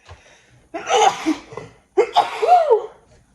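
A sharp sneeze bursts out, then a second vocal burst follows after a short pause; nearby voices and movement sit faintly around it.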